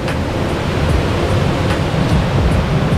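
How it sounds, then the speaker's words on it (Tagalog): Strong rushing water at Maribina Falls, a multi-tiered waterfall in Catanduanes, pours steadily in light drizzle, a dense, continuous roar close by with no voices over it. "Medyo malakas ang agos ng tubig."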